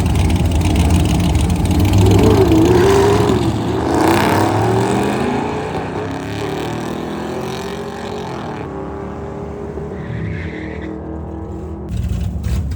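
An LS-powered Chevrolet C10 truck makes a drag race pass. The loud V8 roars hard as it launches, then its note shifts and fades as the truck pulls away into the distance, with no talking.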